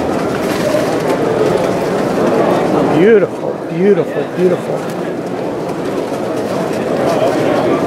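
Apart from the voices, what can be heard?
pigeons cooing at LA pigeon club show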